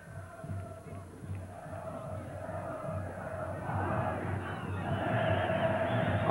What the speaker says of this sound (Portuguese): Acordou a torcida do Corinthians no comecinho do segundo tempo